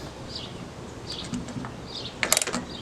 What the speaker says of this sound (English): So I'm just going to be screwing on the spacer. And a 9/16 socket fits this.